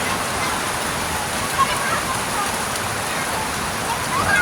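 Steady rain pouring down during a flood in Cavite, a dense, even wash of falling water close by and continuous, with a faint voice barely surfacing under it.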